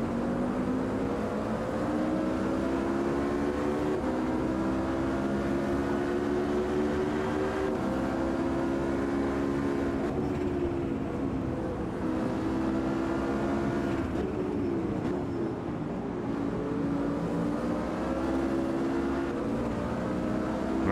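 GT3 race cars, including a McLaren, a Nissan and a BMW, battling in the Automobilista 2 racing game, with a steady loud engine drone that rises and falls as they run close together.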